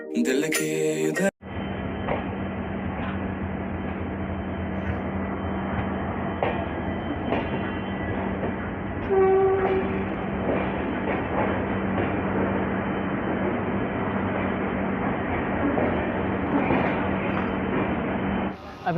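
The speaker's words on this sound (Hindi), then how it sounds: "हम लोग की ट्रेन पहुंच चुकी है हावड़ा जंक्शन" The Amritsar Howrah Mail rolls into Howrah Junction with a continuous heavy rumble and a clatter of wheels that lasts well over fifteen seconds. A brief squeal rises midway and a short burst of other noise comes at the very start.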